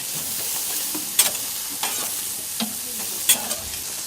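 Vegetables sear and sizzle on a hot stainless steel cooking plate, a steady close hiss of frying with a few brief pops and crackles, no voices.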